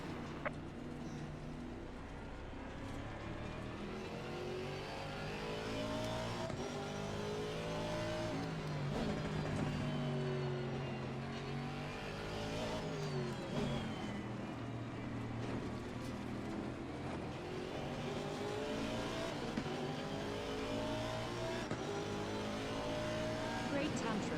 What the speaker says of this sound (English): I got the sub pack behind me as well, so I can feel the rumble of this engine.